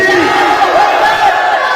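A crowd answers a takbir slogan with a loud massed chant, many voices shouting together in one sustained, roaring response, near and dense.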